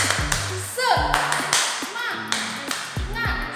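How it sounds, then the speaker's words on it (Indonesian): A school class does a rhythmic spirit clap, several bursts of group clapping in a quick patterned rhythm, close and lively, with voices chanting along between the claps. "Tepuk semangat."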